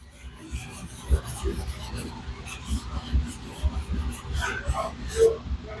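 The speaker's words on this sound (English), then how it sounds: "Then you take your microfiber rag. You clean it up real quick." A microfiber rag is rubbed across a laundromat surface in quick, uneven wiping strokes that make soft, close rasping, mixed with quiet speech.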